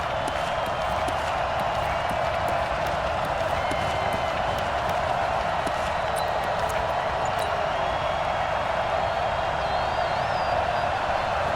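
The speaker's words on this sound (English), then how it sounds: "Listen to this crowd now." A large stadium crowd roars steadily throughout a Super Bowl game during a fourth-quarter 2-point conversion attempt, a dense, loud wash of cheering and noise with no breaks.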